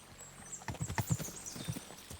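Hooves of a horse in Kingdom Come: Deliverance II clop in an irregular run of close, distinct strikes, with no voices over them.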